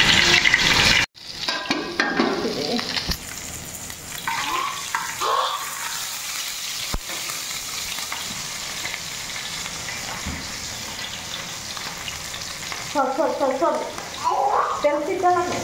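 Hot oil frying in a pan sizzles with a steady hiss for most of the stretch, broken by a sudden sharp drop and a few clatters and stirs. Bursts of louder spattering flare up near the end.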